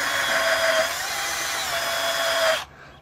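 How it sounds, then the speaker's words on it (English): Small power drill boring a hole into the ground outdoors, whining steadily and close for about two and a half seconds before cutting off abruptly, with no voices. "So I drill a hole. Notice I'm just using the small drill here."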